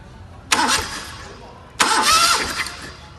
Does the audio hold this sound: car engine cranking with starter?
yes